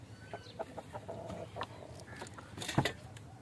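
A rooster clucks and calls in short bursts over a steady background hum, with a louder, rising cry near the end.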